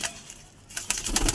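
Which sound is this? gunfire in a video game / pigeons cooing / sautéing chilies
pigeons cooing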